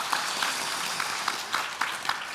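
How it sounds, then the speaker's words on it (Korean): An audience claps after a presentation at a conference, a faint, thin patter of applause from a modest crowd over roughly two seconds. "다시 한번 대단한 발제를 해주신 우리 허광 총재님께 큰 박수 부탁드리겠습니다"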